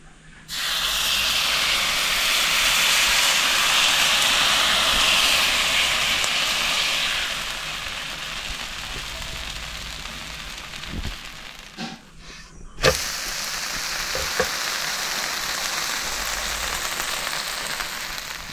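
Jowar ghavane batter hisses and sizzles loudly on a hot pan, a steady frying wash that fades, then a sharp clatter before a second pour starts sizzling again.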